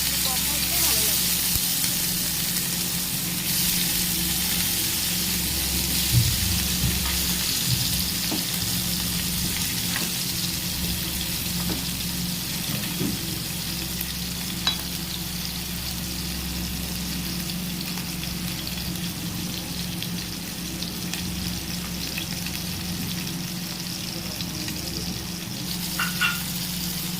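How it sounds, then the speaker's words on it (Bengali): Hilsa fish frying lightly in hot oil in a wok, giving a steady, close sizzle that holds evenly throughout with faint clinks and stirring in the background. "ইলিশ মাছগুলোকে ভেজে নেবো, খুব হালকা ভাজবো"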